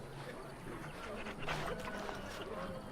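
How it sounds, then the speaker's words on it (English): A puppy whimpers and pants faintly in the fantasy role-playing game Dragon Age Origins, buried under a dense, noisy game soundscape with a voice speaking over it. "Who's the cute and adorable puppy?"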